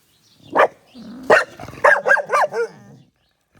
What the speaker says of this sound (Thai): ไม่เห่าลูกไม่เห่า